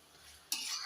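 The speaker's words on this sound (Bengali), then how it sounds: "এখন মশলাটা ভালো করে আগে কষে নিই" A spice paste of ginger, garlic, green chili and ground chili, cumin and coriander gets stirred in a hot pan, a soft scrape followed by a sudden close sizzle of frying that holds for the brief remainder.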